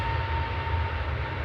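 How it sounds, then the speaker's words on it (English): An EasyJet Airbus A321 departs Manchester Airport for Lanzarote, its engines giving a steady, broad roar with a strong low rumble and a faint tone held through, loud and constant throughout. "And that's EasyJet departing to Lanzarote with flight 2029."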